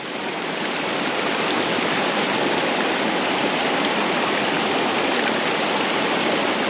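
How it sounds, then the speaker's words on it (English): Steady rushing water from a stream on the Connecticut Appalachian Trail fills the whole clip, a dense, even roar with no voices, fading in briefly at the start. "because of the stream noise"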